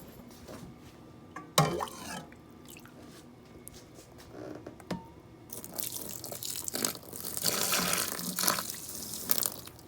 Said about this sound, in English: So I'm going to repeat this process of dumping water, then breaking it up with the stick